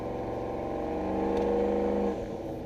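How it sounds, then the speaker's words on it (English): A truck engine drones and whirs under load at part throttle with the rapid fluttering chatter of turbo compressor surge, the sound swelling and then dropping off briefly near the end. "You can hear a compressor surge constantly."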